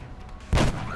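A single gunshot in XCOM: Enemy Unknown, a sharp loud burst about halfway through, with a brief decaying tail and no talking.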